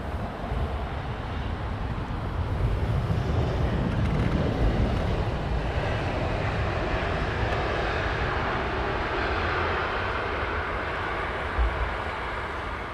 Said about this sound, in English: Gulf Air is now getting airborne.